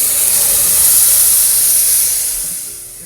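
Green chilli, tomato and ginger paste hitting hot whole spices in a pan, a loud, close, hissing sizzle that holds steady and then eases slightly toward the end.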